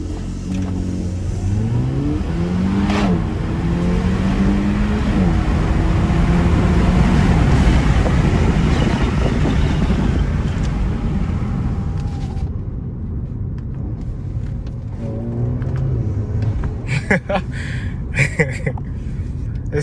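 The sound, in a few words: Audi A4 B9 launch control acceleration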